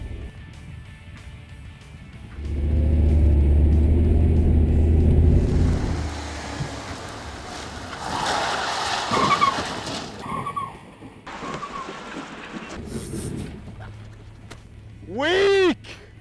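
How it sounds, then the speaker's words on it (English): A van spun through a 180-degree turn and driven out of it, with a loud engine roar and rumble, tires scrubbing and skidding in the middle, a sharp squeal near the end, all close and with no speech. "Freiberger had to tell me, you're gonna do a 180 and then drive out of it."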